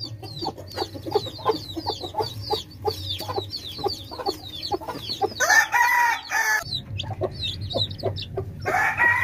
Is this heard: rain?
no